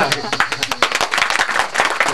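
Audience applause breaking out during a spiritual discourse by a speaker, a dense run of overlapping hand claps from a crowd, steady and fairly loud throughout, with a voice faintly present beneath.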